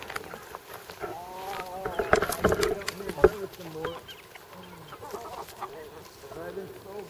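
Chickens cluck and squabble while pecking at tomatoes in a backyard flock: close, scattered clucks and short squawks, busiest in the middle, with a few quiet voices murmuring underneath.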